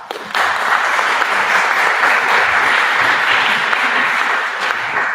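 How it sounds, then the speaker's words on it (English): Loud, dense applause from a large student audience at a national assembly, starting abruptly and holding steady and close for several seconds with no speech. "So big applause."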